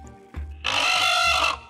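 A squawk sound effect element for a creature, made from a fowl-like cry: a short low grunt, then a loud harsh screeching squawk held for about a second, heard alone.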